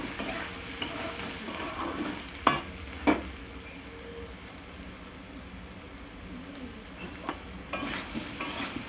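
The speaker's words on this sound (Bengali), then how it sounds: "লঙ্কা দিলাম একটু নাড়বো" Cauliflower and potato curry with chilli and salt is stirred while frying in a pan. A continuous sizzle runs throughout, broken by a couple of sharp spoon clanks early on and a few lighter knocks later.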